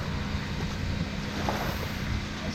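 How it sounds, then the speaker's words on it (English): A dive shop compressor filling scuba tanks on a beach shore, a steady low mechanical drone heard from behind at moderate distance, continuous and unbroken with a faint airy hiss. "The noise you can hear behind you is the dive shop filling their tanks."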